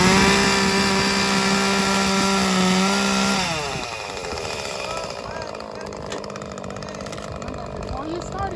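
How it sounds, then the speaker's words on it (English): A chainsaw engine drones loudly nearby, its pitch dropping and roughening as it bites into wood, then grinding on steadily. "how to cut wood with a chainsaw"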